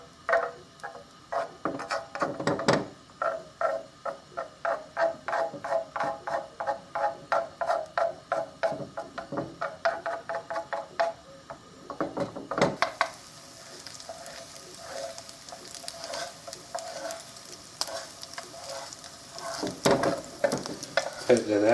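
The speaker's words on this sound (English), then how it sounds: "And first I'm going to cook my egg." A whisked egg fries in vegetable oil in a pan for fried rice, with rhythmic, repeated stirring and scraping of a utensil against the pan over a soft sizzle, then a brighter, steadier sizzle in the second half.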